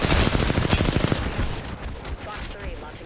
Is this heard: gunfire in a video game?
yes